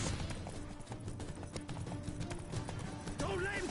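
Horse hooves clip-clop in The Witcher 3 video game as a steady rhythmic trot, mixed with game sounds and a voice talking over it.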